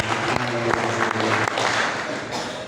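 Clapping from a church congregation during a sermon, steady and fairly loud throughout, with a few sharper claps standing out and a low hum underneath.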